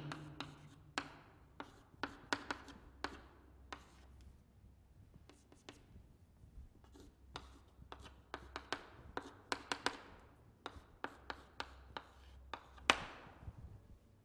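Handwriting during an organic chemistry lecture on aldol condensation. Pen strokes tap and scratch quickly in irregular bursts for about fourteen seconds. They are close but quiet over a low background hum, with faint voice traces.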